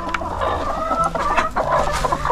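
Broody hens in a homestead flock of over 200 chickens cluck steadily around the nesting boxes, with overlapping soft clucks and low grumbles close by and no talk.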